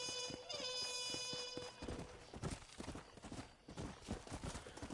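Horse hooves clip-clop steadily in the Red Dead Redemption video game, a close, even rhythm of repeated hoof strikes that carries on throughout with no talking.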